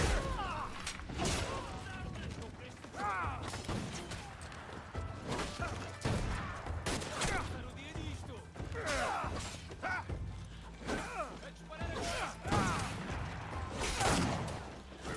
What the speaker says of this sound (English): Why is everyone shooting me, man?